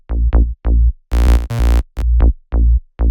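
Bass synth from Ableton Operator blending a triangle wave and a saw wave, playing short plucky low notes in a bouncy rhythm with a few longer held tones, loud and close, alone with no talking.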